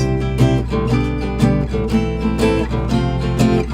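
Chords strummed on an instrument change steadily in a slow progression, loud and close, with no voices.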